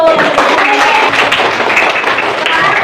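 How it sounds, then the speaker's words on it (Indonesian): A class of students claps together in a burst of applause, close and lively, with voices mixed in under the clapping. "Kasih tepuk tangan untuk kelompok 1"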